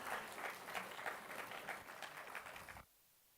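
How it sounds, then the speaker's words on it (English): An audience at an event applauds with dense, steady clapping from many hands at moderate distance, then it cuts off abruptly near the end, leaving near silence. "Please put a warm round of applause."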